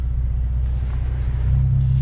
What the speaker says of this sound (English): let's go ahead and drive with this thing off in drive